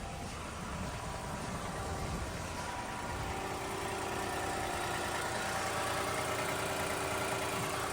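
A 2014 Toyota Highlander Platinum 3.5-litre 4WD engine idles steadily with a low, even hum and faint mechanical whir, constant throughout with no talking.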